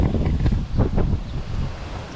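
Wind gusts buffet the microphone outdoors beside a 2005 GMC Envoy being repaired, a steady low rumbling roar with uneven surges and no voices.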